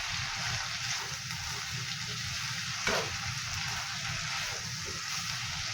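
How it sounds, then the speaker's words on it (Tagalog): Anchovies (dilis) sauté in a pan with soy sauce, giving a steady, moderately quiet sizzle and crackle broken by a single stirring scrape midway, with no talk. "Ayan, natuto na yung ating dilis or ginisang dilis."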